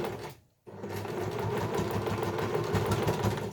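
A sewing machine stitches through a bag handle and lining on an eco shopper, running steadily and close after a short pause near the start.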